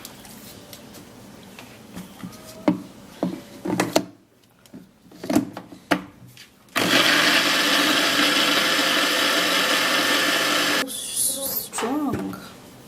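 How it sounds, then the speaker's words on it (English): A kitchen blender whirs loudly and steadily for several seconds as it purées red onion with water, preceded by handling clatter and talk, then cuts off before more speech. "cover it up, and then we blend it."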